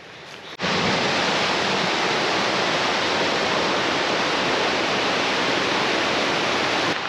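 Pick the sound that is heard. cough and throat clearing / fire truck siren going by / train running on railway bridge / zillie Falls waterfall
zillie Falls waterfall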